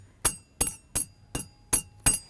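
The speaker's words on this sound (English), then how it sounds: "we use the hammer on the anvil to make that" Six evenly spaced metallic hammer strikes on an anvil, each a bright ringing clink, steady rhythm, close and clear with quiet gaps between blows.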